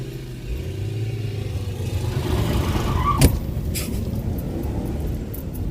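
A BMW E39 540i pulls away with a rising engine note that swells and grows rougher, carried over a loud steady road rumble, with one sharp clatter partway through.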